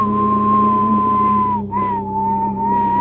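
A person whistles a long sustained tone that dips briefly then resumes, steady and fairly loud over a low constant background hum.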